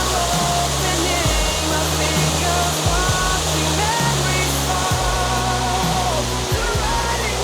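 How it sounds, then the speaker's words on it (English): Close up, a waterfall in the hills around Mae Kampong, Chiang Mai, roars as a loud, steady wash of rushing water that fills the whole stretch, with faint voices underneath. "I've been able to go so close to a waterfall"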